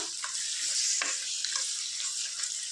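Steady hiss of sizzling in a pan as one kilogram of mutton goes into frying onions and ginger-garlic paste, with a few soft clinks and stirring knocks over the continuous frying noise.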